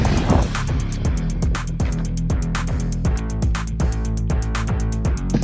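A Jiusi PT14R RC car on a 3S lipo runs at full throttle, its electric motor whine sweeping up and down again and again in a steady, loud cycle.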